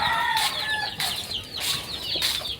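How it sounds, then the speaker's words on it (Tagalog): Several chickens cluck and squawk close by on a farm in short, overlapping bursts, with no talking. "Naghihintay ng pagkain. Dami dyan. Mga manok."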